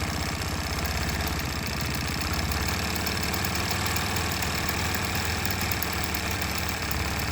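A longarm quilting machine stitches at 11 stitches per inch in a continuous, steady mechanical whir with a fast rhythmic pulse, loud and close throughout.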